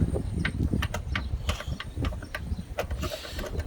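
A 10mm screw on a Lexus ES330 starter being tightened, a close run of quick metallic ratchet clicks and rattles with clunks of tool against metal, irregular and busy.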